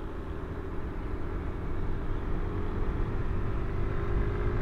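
Yamaha Aerox 155 V2 scooter engine, still in its break-in period, held at about 6000 RPM, a steady close droning hum that grows slightly louder without clear rev swings, no talk.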